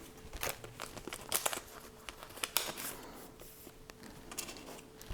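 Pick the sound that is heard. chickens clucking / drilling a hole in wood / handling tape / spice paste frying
handling tape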